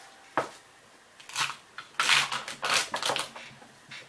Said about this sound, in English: I'm just double checking to make sure that I cut off all the dried up spots.